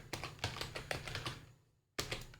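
Rapid keystrokes on a computer keyboard, a close, dry clatter of irregular taps that pauses briefly for about half a second before a fresh burst of keys resumes.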